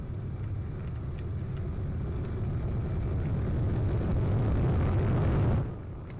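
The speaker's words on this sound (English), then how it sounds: "this Seversky is a keybind aircraft, so you could do special maneuvers with it" A Seversky aircraft in the Roblox game Plane Crazy droning along with a steady low engine rumble that slowly swells louder, then drops off abruptly near the end, with no voices.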